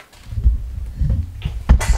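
Close single human sneeze indoors at home, a sharp burst at the end preceded by soft breathing and small rustles.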